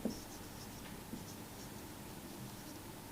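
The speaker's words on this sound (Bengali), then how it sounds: "এখন আমি একটু গত পরশুদিন ইংলিশটা লিখি" Chalk or marker scratching steadily across a classroom board during an English tense lesson, faint and close, with small taps and strokes and no talk over it.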